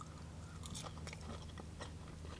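Close, crisp bites and crunchy chewing on well-fried chips from a Yorkshire fish and chip meal, several short crackling crunches spread across a steady low background hum.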